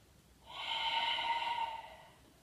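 A single long breath of about two seconds, drawn sharply through the nose during a floor workout, close and fairly loud against a quiet room.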